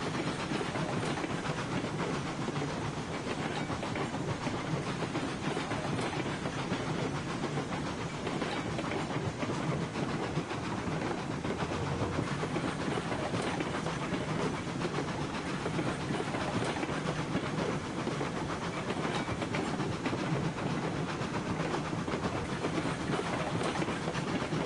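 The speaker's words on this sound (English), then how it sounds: "2-6-6-2 tank engine locomotive" A steam locomotive, a 2-6-6-2 tank engine, rumbles loudly and continuously with a dense hissing roar and steady rolling clatter that never lets up.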